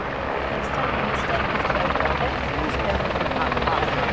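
A search and rescue helicopter at the Durban Virginia airshow thrums with a steady rotor chop and engine whine, fairly loud and continuous, while a commentator talks over it.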